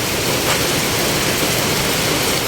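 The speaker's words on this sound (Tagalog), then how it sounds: "And it's been raining." Rain falls in a dense, steady hiss during a storm, loud and unbroken for the whole stretch with no voices.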